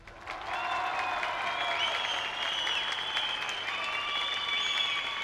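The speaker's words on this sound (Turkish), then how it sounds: "Alkışa Hasan'dan başlıyoruz." A studio audience on a Turkish television variety show breaks into loud, sustained applause that holds steady for several seconds, with sharp whistles ringing above the clapping.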